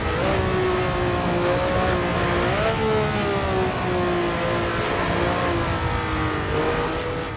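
Onboard a 1967 Ferrari 312 race car in a racing game, the engine holds a loud, high-pitched howl, climbing in pitch and dropping with gear changes, alone with no talk.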